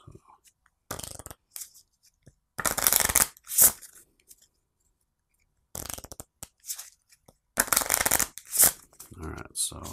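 Game cards are shuffled by hand during a Resident Evil tabletop board game, in short crisp riffling bursts separated by silent pauses, close and fairly quiet.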